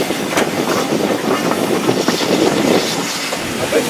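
A steam train on the Keighley & Worth Valley Railway arrives at Oxenhope station during a spring steam gala, heard as a steady loud rumble of rolling carriages with faint wheel clatter and occasional squeals.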